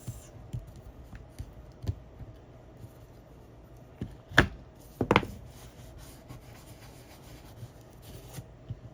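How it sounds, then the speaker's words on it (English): A bone folder creasing paper makes two short, sharp scraping strokes about a second apart against a quiet room background. "I'm going to go with my bone folder and go like this"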